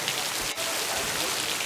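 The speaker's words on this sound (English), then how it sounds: "Actually hailing." Hail patters steadily and densely on an outdoor surface, a continuous close hiss of impacts with no clear voices.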